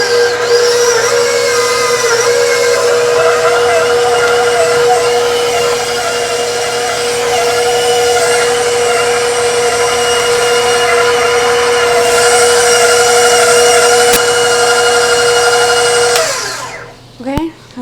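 A stand mixer with a paddle runs steadily at medium speed, a loud, even motor whine with a mechanical hum held for about sixteen seconds before winding down and stopping.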